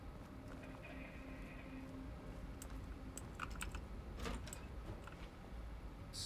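A mechanical auto typer machine in the Alan Wake 2 video game, heard as quiet, irregular clicking taps over a steady low ambient hum, with a faint muffled voice in the background.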